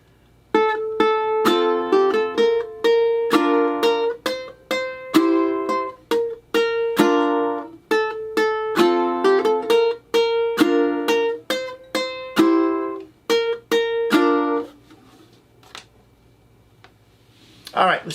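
Acoustic guitar playing a three-chord strummed groove with alternating bass notes, a steady rhythmic pattern of bright chord strums and plucked low notes, close and clear, ending with the final strum ringing out.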